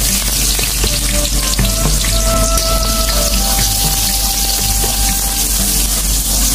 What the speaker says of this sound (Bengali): তো এখন আমরা কড়াইতে তেল দিয়ে দিয়েছি, তেল গরম হয়ে গিয়েছে। এখন পেঁয়াজ দিব